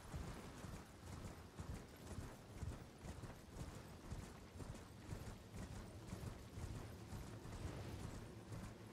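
Horse hooves galloping in Elden Ring: a steady, dense run of rapid clip-clop footfalls over quiet game ambience, moderately loud and continuous throughout, with no talk.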